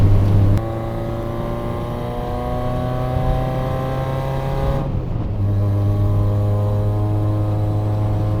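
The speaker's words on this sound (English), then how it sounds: "See, this is where the Supercharger shines in a Miata, right here" Supercharged Mazda Miata engine pulling hard uphill on a mountain road, a steady loud drone with rising harmonics as it accelerates, a brief gear-change dip near the middle, then revving on again close up from inside the cabin.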